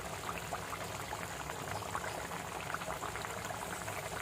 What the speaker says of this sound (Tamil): இந்த கொதிக்கிற சத்தத்தை கேளுங்களேன்,